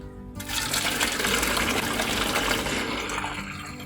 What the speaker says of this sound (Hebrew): אני הרתחתי מים מקודם ונשפוך אותם לפה